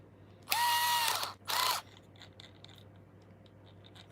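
Ratchet tightening a part on a model overdrive gearbox, two quick close rasping clicks in succession, then quiet.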